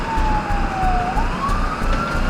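A loud wailing ambulance siren sweeps slowly down and then back up in pitch over steady traffic rumble, continuous throughout.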